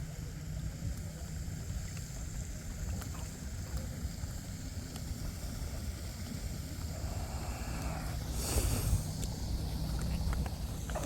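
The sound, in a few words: RC boat motor running on water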